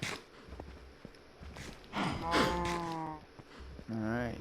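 Cattle in a farming video game give repeated moos, two long drawn-out calls in the second half and a fainter one earlier, alongside soft clip-clop and footstep sounds with no speech.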